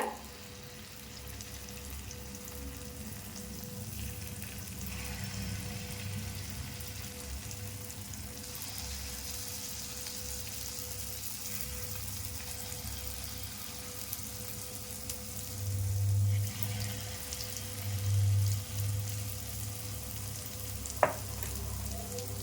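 Red banana sweet paniyaram batter sizzling steadily in a pan, a soft continuous frying hiss with faint crackles, with a single sharp tap near the end and no talking.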